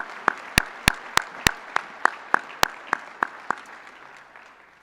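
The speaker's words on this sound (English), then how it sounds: "Round of applause for our business students." Audience clapping at a National Technical Honor Society induction ceremony, a sparse, evenly paced run of about a dozen sharp claps standing out from a softer background of scattered hands, fading slightly toward the end.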